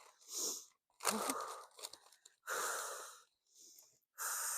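Heavy, wheezing breaths come in long rasping pulls and pushes, about five loud close-up strokes separated by brief silences.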